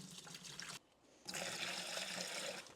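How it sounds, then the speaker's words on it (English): Tap water runs into a jug for mixing gypsum plaster, a close steady gushing flow that breaks off briefly partway through and then resumes. "we're going to put the water in first and then add the gypsum"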